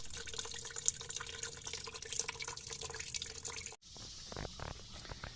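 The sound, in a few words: coolant draining from a Chevy Colorado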